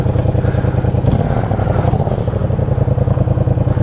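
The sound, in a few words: motorcycle riding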